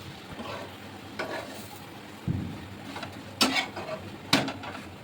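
A paratha frying in oil on a tawa, with a quiet low sizzle and a few soft scraping and clinking knocks from the spatula against the pan, spread out over several seconds.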